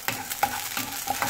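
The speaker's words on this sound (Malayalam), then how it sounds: "ആദ്യം ഒന്ന് പയറും പരിപ്പും കൂടി ഒന്ന് വറുക്കുക" Washed green and white beans and lentils are dry roasted in a pan, with a spoon scraping through them in about four quick, regular strokes over a light sizzle, close up and with no talking.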